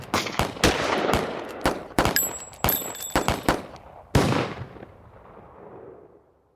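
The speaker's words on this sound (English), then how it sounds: "Then shots rang out." A gunfight between Doc Holliday, the Earp brothers and their opponent in the Old West: a volley of sharp, loud revolver shots cracks out in irregular bursts, with ringing tones among them and echoing decay at the end.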